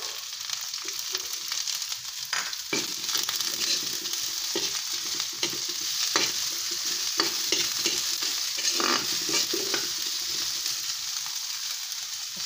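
Onions going into a pan with garlic that is already half cooked: a loud, even frying sizzle that lasts throughout, broken by frequent scrapes and knocks from stirring.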